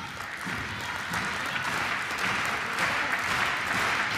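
Crowd applauding at a world championship table tennis semifinal between China and Sweden, a steady dense wash of clapping from a large arena audience, loud and sustained throughout.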